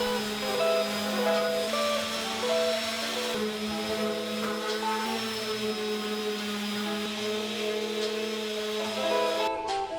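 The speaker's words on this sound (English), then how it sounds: "Now I'm just going to go ahead and sand them up a little bit." A power sander works over small wooden pieces cut for an outfeed table, giving a steady, close, droning whir that holds evenly for the whole stretch without talk.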